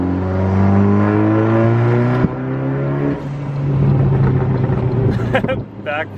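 Saab 9-5 engine revving hard as the car accelerates, with a loud, sharp backfire pop partway through and more crackle after; voices talk briefly near the end.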